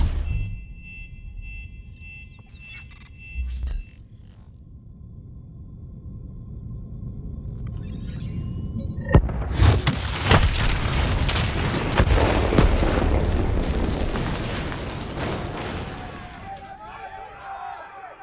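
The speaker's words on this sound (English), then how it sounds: "Detonate now!" Explosions after a detonation in the video game Call of Duty: Black Ops 3 start with a sudden heavy boom, then a long, loud rumbling roar of debris and blasts, with game voices heard earlier.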